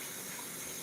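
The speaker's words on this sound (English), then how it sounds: "Let me wash my hands." Tap water running steadily into a kitchen sink during hand washing while pizza and meatballs are being made at home, a continuous broadband hiss with no talk.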